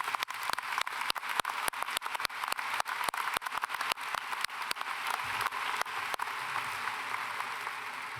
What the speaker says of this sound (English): let's give one more round of applause to our choir program